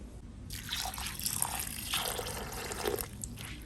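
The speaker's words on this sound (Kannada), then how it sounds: "ಸ್ವಲ್ಪ ನೀರು ಹಾಕುವ." Water splashes and trickles in short pours into a wet grinder holding rice and salt, close up, with dripping between bursts.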